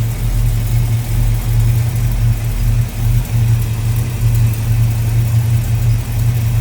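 A 1940 Ford Standard Coupe street rod with a small block 350 V8, Edelbrock 4-barrel carburetor, headers and HEI ignition idles steadily nearby. Its low, even rumble holds a constant pulse with slight wavers.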